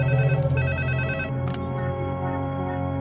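A telephone rings while a call is placed to the SP, a loud electronic ring pattern up close that stops partway through, followed by a sustained tone.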